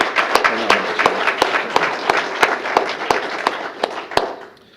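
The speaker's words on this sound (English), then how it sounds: "let's have a round of applause for her nomination" Audience at a city mayor's monthly employee recognition awards gives a round of applause for an airport employee's nomination, dense steady clapping with sharp individual claps standing out, lasting several seconds and tapering off at the end.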